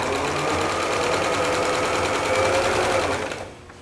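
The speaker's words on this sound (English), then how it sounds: "scant 1/4 inch on your machine. And we're going to start sewing" A sewing machine runs steadily while stitching a scant quarter-inch seam along a quilt border, its rapid even chatter continuing for about three seconds before it stops and fades out.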